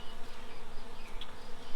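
Honey bees buzzing densely and continuously during a hive inspection, a close, loud, steady drone with no voices.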